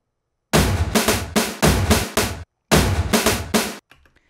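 Layered drum samples from the Kashmir pack repeat the same rolling pattern, loud broadband hits in clustered bursts, two phrases split by a brief pause, ending with a faint trailing tail.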